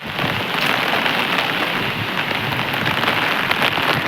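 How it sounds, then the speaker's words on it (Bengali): Heavy rain pouring down steadily on surfaces, a dense continuous hiss with close drips and patter throughout, loud and with no voices. "বৃষ্টি এখনো থামছে না"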